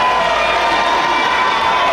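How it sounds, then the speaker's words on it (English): A crowd of about 1,200 at an independent wrestling show cheers loudly, a dense, sustained roar with shouts rising through it. "Listen to that crowd, John."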